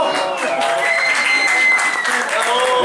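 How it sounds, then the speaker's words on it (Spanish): Crowd applause at the launch of a Santiago Wanderers football jersey: a short, steady spell of clapping from a gathered audience, with voices and cheers rising through it. "a quien le damos un fuerte aplauso también"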